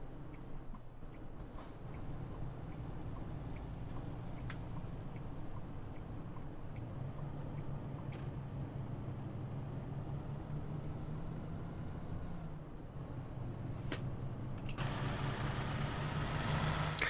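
An International LoneStar truck engine in American Truck Simulator drones steadily at low pitch throughout, with a brief brighter hiss near the end and no talking.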